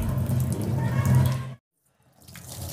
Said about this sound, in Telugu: ఈ ట్యాంక్ నుంచి వచ్చే వాటర్ మనకు స్లోగా వస్తుంది